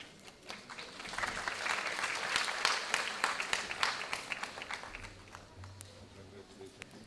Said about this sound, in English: Give a big round of applause for all the respected people present on the dais.